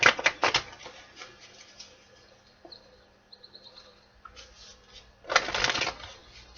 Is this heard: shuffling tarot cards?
yes